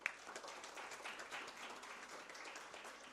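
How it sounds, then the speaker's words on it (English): An audience at the ConnectKaro 2025 urban design conference gives a round of applause, a soft, fairly distant patter of many hands that continues evenly throughout. "big round of applause for you too"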